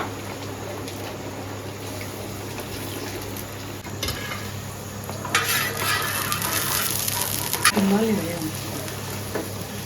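Egg frying in a kitchen pan, a soft steady sizzle running under background noise with occasional louder bursts of crackle and clinks of a utensil against the pan.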